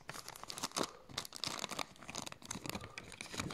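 Packaging on a Rapido 16-inch Hunslet model locomotive is torn and crinkled open at close range in busy bursts of ripping and crumpling paper and plastic, with no voices.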